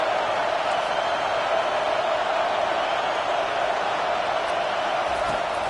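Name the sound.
football stadium crowd noise on fourth down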